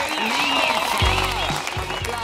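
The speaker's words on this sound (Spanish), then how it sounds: "¡Aplausos!" Studio audience applause on a TV cooking show, brief and lively, with a voice speaking and some musical tones over the clapping throughout.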